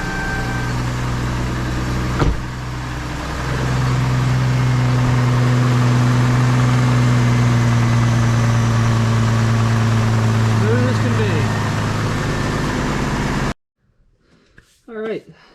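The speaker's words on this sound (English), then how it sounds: "when we start this up, all the misfire should be gone." An Isuzu engine idles steadily after a misfire repair, a continuous low hum with a steady drone that runs loud and close for most of the stretch, then cuts off into quiet with brief talk at the end.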